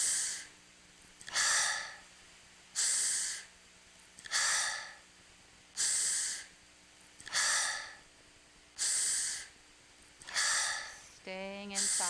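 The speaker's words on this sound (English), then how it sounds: "Let the sound of the breath be the mantra." Slow, deep meditation breathing, with eight evenly spaced breaths in and out, each a soft, airy rush that swells and fades, close and quiet with pauses between, ending in a short voiced sigh.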